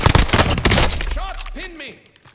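Rapid gunfire and impacts in a Call of Duty match on the Caldera map, a loud dense burst of shots up front that thins out, with tonal game sounds chirping near the end.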